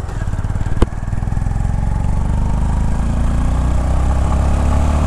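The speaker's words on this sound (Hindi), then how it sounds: "Now let's rev it." A Honda CB 350 motorcycle engine runs with a loud, close, steady thrumming exhaust note, with a single sharp click early on and no speech.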